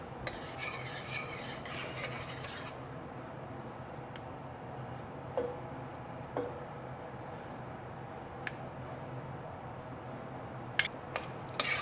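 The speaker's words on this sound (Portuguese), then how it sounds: "Então nós continuamos amassando ele até ele ficar bem homogêneo" Soft, thick stirring and mashing of a cooked cassava mixture in a bowl, quiet and continuous, with occasional light clicks of a utensil against the side.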